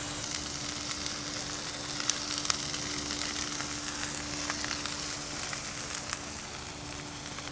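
Gigantic burgers, onions and peppers fry on a roomy flat griddle, giving a steady, dense sizzle with small crackles and pops throughout and no voices.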